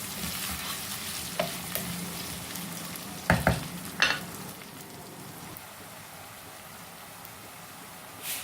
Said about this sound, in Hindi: कांदे को हल्का सा फ्राई करेंगे।